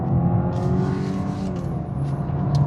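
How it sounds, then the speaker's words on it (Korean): A car on Michelin CrossClimate 3 all-weather tires accelerates smoothly out of a corner past the apex, a steady engine drone and road noise heard from inside, continuous and moderately loud with no talk. "에이펙스 통과하면서 다시 부드럽게 가속을 시작합니다"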